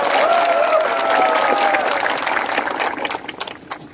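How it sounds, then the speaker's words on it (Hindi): Applause and scattered cheering from a rally crowd, a dense continuous clatter of clapping with a whistle-like tone early on, thinning and trailing off toward the end. "आप अपने आप को भी थोड़ा सा ताली देकर अपने आप को भी क्रेडिट लीजिए"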